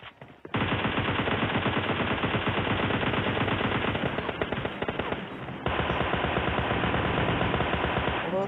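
Dense, continuous automatic gunfire from the mobile battle royale game PUBG Lite, loud rapid bursts filling nearly the whole stretch after a brief quiet start, with a short dip in intensity before the firing resumes.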